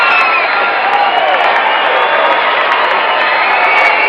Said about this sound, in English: You will hear the roar of the crowd.